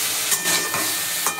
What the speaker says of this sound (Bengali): আর এদিকে আমার ফুলকপিটাও ভাজা হচ্ছে